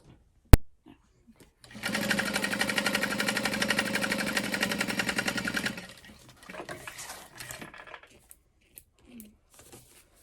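A sewing machine stitching a crossbody bag, a close, steady mechanical whirring run of about four seconds after a single sharp click, then a few shorter bursts of stitching.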